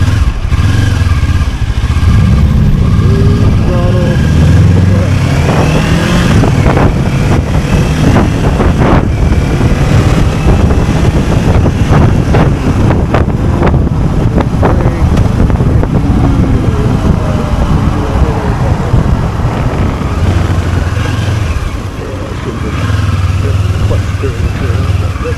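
A 2025 Kawasaki Ninja 500 SE KRT motorcycle on the move, its steady engine drone mixed with heavy, constant wind buffeting on the microphone, with a rider talking over it.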